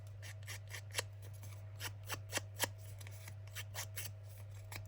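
Scissors snip repeatedly in short, uneven bursts, close by and crisp, over a steady low hum with no talking.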